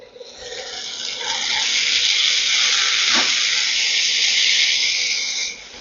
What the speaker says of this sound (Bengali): একটু জল দিয়ে দিলাম যাতে মশলাটা না পুড়ে যায়